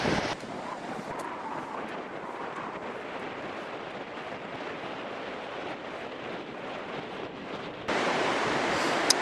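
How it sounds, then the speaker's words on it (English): Strong wind on the Pembrokeshire coast on a dull day buffets the microphone continuously with a dense, roaring rumble, growing louder near the end. "today it's very dull, very windy, and rain is expected"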